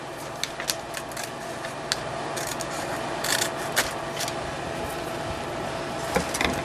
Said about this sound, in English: I'm going to cut that off to a lot thinner strip to get glued down to the book